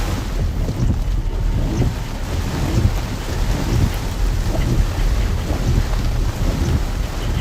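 A severe Florida thunderstorm: steady heavy rain and gusting wind roar continuously, with low rumbling thunder woven through and no break in the dense, loud wash of noise.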